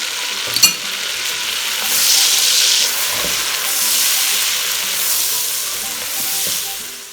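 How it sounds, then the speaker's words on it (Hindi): Chicken with garlic-ginger paste and spices sizzles steadily in a hot pan, a close, continuous frying hiss with occasional stirring scrapes and a brief clank. "अब इसको अच्छे से फ्राई करना है, क्योंकि मसालों के सर पे ही सारा इसका टेस्ट आना है।"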